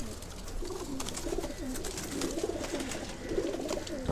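Pigeons in a rooftop loft coo in soft, repeated throaty phrases that overlap close by, with a light breezy background and no speech.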